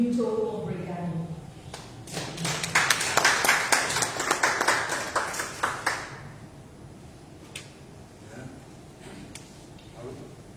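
A crowd claps after a presentation at an ECOWAS review workshop. A voice speaks first, then dense, even applause builds for several seconds before thinning into a few scattered claps.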